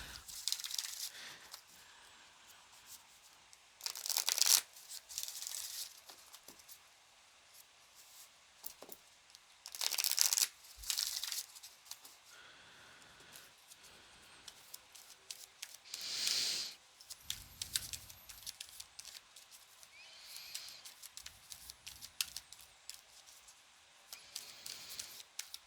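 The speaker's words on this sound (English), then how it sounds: "Let's get an oracle card from Wisdom of the Hidden Realms." Oracle cards from the Wisdom of the Hidden Realms deck being shuffled and drawn: intermittent close crisp card riffles, slides and crinkly flicks in short bursts separated by quiet stretches.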